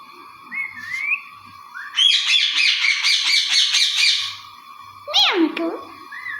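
A talking parrot calls up close with rising whistles, then a rapid run of warbling chirps and a sharp squawk, bright and clear against a quiet room.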